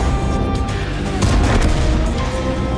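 Loud, heavy cannon fire and booming impacts in the tank game World of Tanks, a dense, continuous rumble of shots and blasts with no clear gaps.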